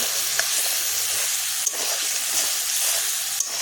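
Water-soaked chilli powder hitting a hot pan of oil for a light fish curry, a steady loud sizzle and hiss throughout with faint stirring clicks on top.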